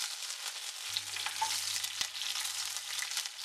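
Curry leaves and dried red chillies dropped into hot oil with popped mustard seeds: a soft steady sizzle and crackle, close but fairly quiet, with no speech.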